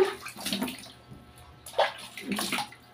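Water runs from a tap into a tub, splashing in uneven bursts that swell and fade, fairly close and moderately quiet, with no clear speech over it.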